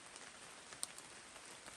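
Steady, faint rain patters on the Appalachian Trail near Mt Greylock in Massachusetts, a soft continuous hiss with a few sharper drips, no voices.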